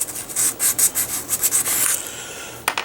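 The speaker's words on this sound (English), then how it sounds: "So we'll take our sandpaper, we will sand that out." Sandpaper rubs out a scribed line in wood with a series of quick, rhythmic scratching strokes, close and fairly loud, ending in a few short final swipes.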